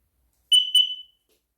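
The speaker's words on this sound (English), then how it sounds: "so don't worry about that alarm" A combination smoke and carbon monoxide alarm gives two sharp, piercing high beeps in quick succession, close and clear against silence.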